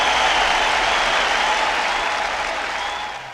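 Dense crowd applause played as a hand-clap cheer for a viewer on a live show, loud and steady throughout before fading slightly at the end, no voices over it.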